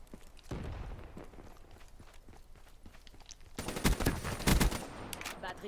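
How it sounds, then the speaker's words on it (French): Rapid bursts of Vesper submachine gun fire in Black Ops 3 multiplayer, a fast rattling cadence that turns louder and closer in the last seconds, with game noise and footsteps around it. "J'ai reconnu la cadence de tir tellement ouf, y a que la Vesper qui a ça."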